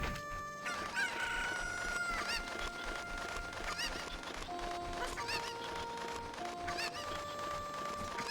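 Chickens crowing and clucking in the video game Ocarina of Time, with repeated crows and clucks layered over steady game music throughout.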